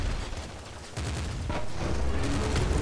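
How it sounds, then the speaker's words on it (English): Gunfire in the video game Nuclear Throne, a dense rapid burst of shots and blasts that sharpens in the second half, loud and continuous with no talk. "Those shots missed, definitely."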